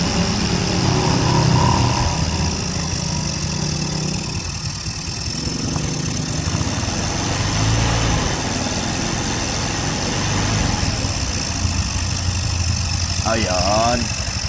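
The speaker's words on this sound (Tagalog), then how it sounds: "Ang ganda ng anda ng bago natin overhaul. Init lang muna saglit." A freshly overhauled Keeway Icon 110cc scooter engine with a repaired carburetor idles steadily while warming up, a low, even rumble throughout, while someone talks over it.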